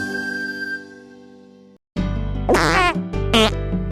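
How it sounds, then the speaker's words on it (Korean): A cartoon tiger's fart sounds like a trumpet blast: a thin sustained tone, a brief silence, then two loud, brassy, buzzing toots in quick succession. "바로 호랑이가 똥꼬로 나팔 부는 소리랍니다."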